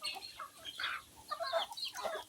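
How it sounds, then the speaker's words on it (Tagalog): Bisaya native chickens cluck in short, soft bursts close by, several calls overlapping in a quiet outdoor yard. "Saba dabi yung mga manok ha."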